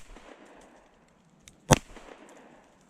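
A single sharp shot from a Kimber 2K11 Pro pistol rings out against quiet background noise, a sudden loud crack with a brief trailing echo.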